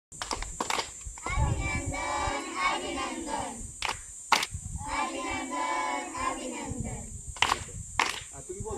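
A village crowd at a school gathering welcoming a Ramakrishna Mission mobile book exhibition claps in bursts, with sharp clapping peaks, cheering voices and shouts from adults and children, and some talk mixed in.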